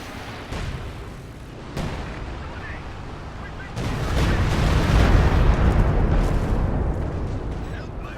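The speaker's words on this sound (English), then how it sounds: "So Panzerwerfer there forces a retreat, but ends up setting off that Talon mine" A Teller mine detonates under a Panzerwerfer in a Company of Heroes 2 match, a deep booming blast that swells into a loud, sustained rumble amid ongoing battlefield noise.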